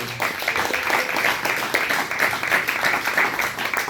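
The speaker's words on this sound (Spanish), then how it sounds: "Den un aplauso a Cristo y póngase de pie." A church congregation claps together throughout, a dense, steady wash of applause filling the room at close range with no one speaking over it.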